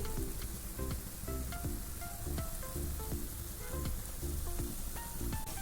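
Semolina roasts in ghee with a dense, constant sizzle, loud and close. Rapid clicking taps from a spoon stirring against the pan run through it.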